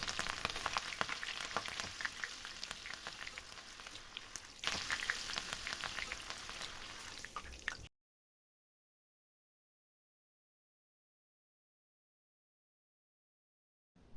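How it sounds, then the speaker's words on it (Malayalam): Curry leaves and green chillies frying in hot oil, a dense crackling sizzle for about eight seconds before the sound cuts to silence. "ആദ്യം കറിയപ്പല ഇതേപോലെ ഒന്ന് ഫ്രൈ ചെയ്തെടുത്തതിന് ശേഷം പച്ചമുളകും ഒരു നാലഞ്ചെണ്ണം ഇതേപോലെ ഒന്ന് ഫ്രൈ ചെയ്തെടുക്കാം"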